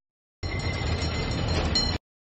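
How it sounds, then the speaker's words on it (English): A streetcar runs on rails, a loud, steady rumble and clatter of wheels and machinery with a thin high whine and a brief squeal near the end, lasting about a second and a half. "Street car."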